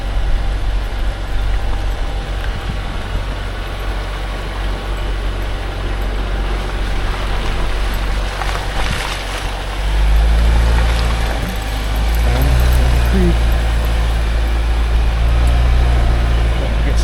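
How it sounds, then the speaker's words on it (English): A hybrid Jeep's gas engine runs with a low steady hum inside the cabin, rising to a deeper rumble partway through. "the gas engine turns on instead of go to battery power"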